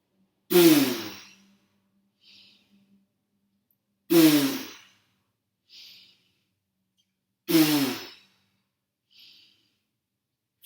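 Three deep breaths during a yoga breathing session, each a loud, strong exhale followed by a soft, brief inhale, evenly spaced with quiet pauses between.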